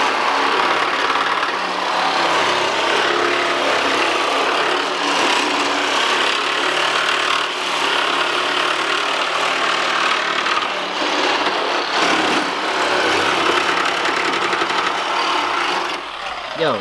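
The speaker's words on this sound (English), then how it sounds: "Cut over the spot welds." A power tool grinds through the spot welds on a Honda Integra body during a right-hand-drive conversion, a loud, continuous harsh whine and rasp of metal that stays steady throughout.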